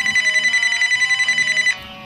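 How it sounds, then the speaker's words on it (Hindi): Telephone ringing loud and close with a bright, warbling electronic trill that pulses steadily for under two seconds before cutting off, no voices over it. "अरे मोदी जी का फोन आ गया।"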